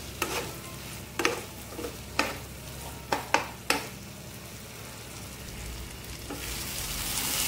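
Mutton fries in a pan, a soft continuous sizzle broken by several sharp scraping clacks as it is stirred, close and fairly quiet, with no voices.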